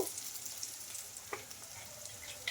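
Turmeric fries with softened tomatoes in a pan, giving a faint, soft sizzle with a few light scraping clicks of stirring, quiet and close, with no talking.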